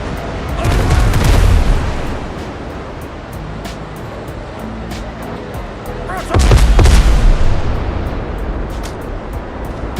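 Ship cannons fire in the pirate video game Windrose, with two loud close booming broadsides a few seconds apart over steady ocean wave noise.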